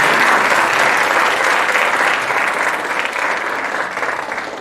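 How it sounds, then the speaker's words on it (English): Loud, sustained applause from the audience at a panel discussion on women's suffrage in Wyoming, dense steady clapping that fades slightly toward the end. "let's give them another round of applause"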